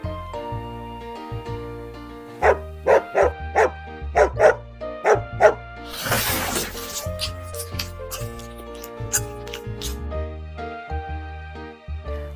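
A dog barks in a quick series of sharp, loud barks over bright background music, then the music carries on with fewer barks.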